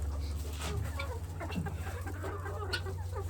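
Ameraucana chickens cluck and chatter steadily as they step out of a freshly cleaned coop, with soft overlapping calls close by over a constant low hum and no talking.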